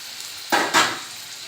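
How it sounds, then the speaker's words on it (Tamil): Tomatoes are stirred into frying chicken biryani masala, making two quick bursts of sizzling and scraping in a pan, each under a second long, against a faint background hiss. "இதையும் நல்லா அடிப்படலாமல் கிண்டி விட்டுக்கணும்"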